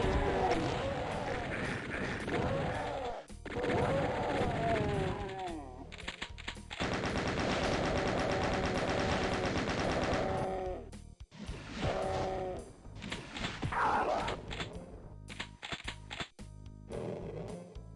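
Chaingunners fire in rapid automatic bursts in Doom, loud and dense, with gaps between volleys and other game effects scattered through the later part.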